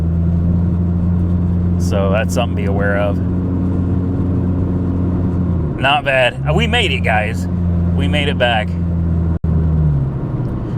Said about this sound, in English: The exhaust a little on the loud side too.